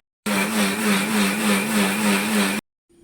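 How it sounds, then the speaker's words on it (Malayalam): A mixer grinder grinds coconut paste with a little water for prawn curry, running as a loud, steady motor whine with a slight pulsing wobble, then cutting off abruptly. "ചെമ്മീൻ ചാറ് വെക്കണമെന്ന് പറഞ്ഞതുകൊണ്ടാണ് അരച്ചെടുക്കുന്നത്."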